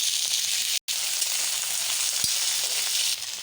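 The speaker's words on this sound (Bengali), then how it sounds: "কড়াইতে তেল গরম হয়ে গেছে, কুটে রাখা বরবটিটা আমি ভেজে নেব।" Chopped yardlong beans fry in hot oil in a wok, giving a loud, steady close-up sizzle with one very brief cut partway through.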